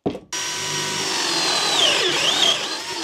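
A 40mm Forstner bit drilling into wood with a power drill, a steady close whine that bogs and wavers in pitch as the bit cuts, running alone for about three seconds after a short start.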